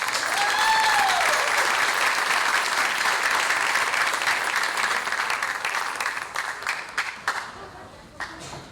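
An audience at a high school academic achievers ceremony gives sophomore honorees a round of applause, steady dense clapping that holds loud for several seconds before thinning out and tapering to scattered claps.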